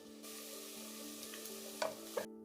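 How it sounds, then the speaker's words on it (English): Close, steady sizzling of fish frying in hot oil, a continuous hiss with a couple of small pops and crackles before it cuts off. "Please don't let the frying take too long."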